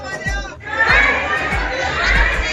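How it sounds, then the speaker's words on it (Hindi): Large crowd of devotees on the steps of the Maihar temple, a dense murmur of many voices with children's shouts and chatter, plus repeated low thumps across the scene. "काफ़ी सारे भक्त हैं और आज भीड़ बहुत ज़्यादा है"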